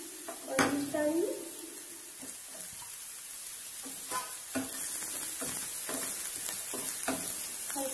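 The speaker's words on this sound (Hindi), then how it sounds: "जब हल्का सा फ्राई हो जाएगा तो हम इसमें अपने शिमला मिर्च और मिर्च डालेंगे।" Capsicum and chillies fry and get stirred in a hot pan for Schezwan momos, giving a steady sizzle with repeated scraping stirs and a sharper clatter near the start.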